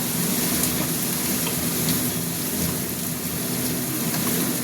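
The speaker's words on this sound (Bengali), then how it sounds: "এবার আমি লাউটা ঢেলে দেবো।" Boiled bottle gourd tipped into a pan of spices fried in oil, giving a loud, continuous close-up sizzle that holds steady throughout with no voices.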